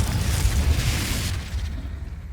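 A Confringo blasting spell in Hogwarts Legacy lets off a deep, loud explosive boom that rumbles with broadband crackle, then decays over about two seconds into a fading tail.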